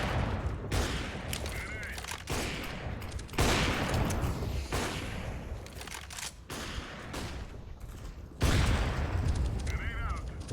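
Gunfire in a first-person shooter match, with bursts of loud shots at irregular moments, one clear bang around the middle and another near the end, all under steady excited team chatter from players.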